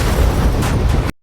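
A bomb detonates as a helicopter lifts off, a single loud, heavy boom with low rumbling that fills about a second and then cuts off abruptly to silence.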